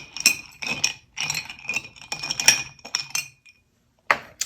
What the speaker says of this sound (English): now that we've got the honey in there, I'm just gonna give it a little stir